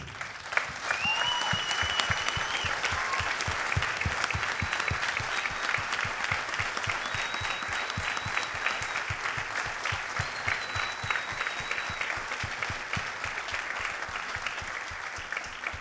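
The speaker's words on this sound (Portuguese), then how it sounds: "eu peço um forte aplauso para eles, para o nosso grupo." A theatre audience claps steadily for a fado group on stage, a dense, sustained round of applause lasting around sixteen seconds with a few faint whistles or tones over it.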